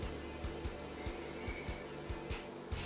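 A rhythmic scraping and rubbing as an egg is ground with sugar in a bowl, repeating roughly twice a second, steady and close.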